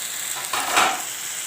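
Potatoes with liver and gizzards, now joined by vegetables, sizzle softly in a pan as they are sautéed, a steady frying hiss with a brief swell of stirring in the middle.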